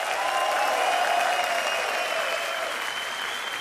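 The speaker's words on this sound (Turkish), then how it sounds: "Hanımefendiye ayrı bir alkış alalım." Studio audience at a Turkish TV show breaks into sustained, loud applause, a dense even wash of clapping that holds steady for several seconds and then eases slightly toward the end.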